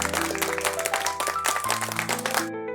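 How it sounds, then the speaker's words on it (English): Cartoon animals applauding after a myna bird's song: dense, fast clapping over light background music, fairly loud, stopping abruptly near the end. "the animals clapped"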